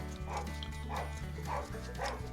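Four muffled barks from a distant dog, evenly spaced, beneath a constant low droning hum.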